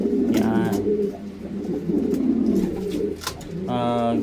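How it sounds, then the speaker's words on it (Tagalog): Pigeons coo at a loft, with repeated soft throaty calls close by, first near the start and again at the end, and someone talks over the birds between them. "Tsaka ito yung binili sa akin ni Boss Aki na ibon."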